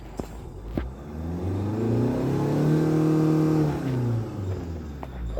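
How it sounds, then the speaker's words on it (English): A silver Hyundai Tucson's engine revs up smoothly from idle, rising in pitch to a steady high hold and then dropping back down, close and fairly loud with no talking. "the RPMs move and go up very smoothly"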